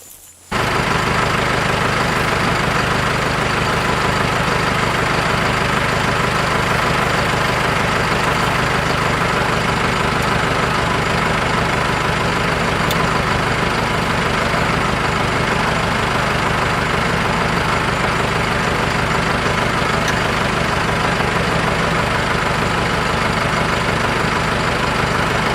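A heavy diesel engine on a New Holland 451 tractor idles steadily and loudly for the whole stretch, a constant low rumble with a faint knocking pulse and no voices.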